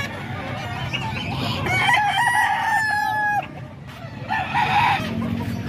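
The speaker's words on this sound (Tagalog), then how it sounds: "Ito pa mga manok dito sa Kalumpit" Chickens on a poultry farm in Calumpit, with a rooster crowing loudly twice in long, wavering calls over steady clucking and barnyard background noise.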